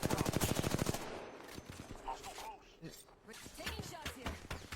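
Bursts of rapid gunfire crackle loudly at the start, then fade into scattered distant shots and game noise, with people talking over it.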